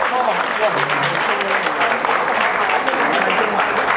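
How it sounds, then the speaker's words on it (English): Guests at a Toronto fundraising dinner applaud the fundraising team, a dense sustained round of clapping throughout, with some voices mixed in. "Let's give Judy and the fundraising team a big round of applause."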